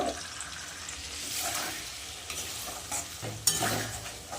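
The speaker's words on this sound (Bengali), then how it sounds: "ভালো করে মশলাটা কষিয়ে নেব" A ground paste of onion, ginger, tomato, dried red chilli and cumin fries in a pan with a soft, close sizzle, broken by several scraping stirs and a louder clank near the end.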